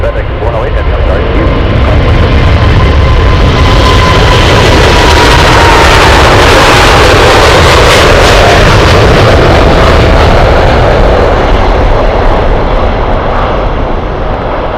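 FedEx jet taking off at Anchorage Airport, a loud sustained full-power engine roar with crackling rumble, very close and filling the whole stretch, with radio chatter mixed in.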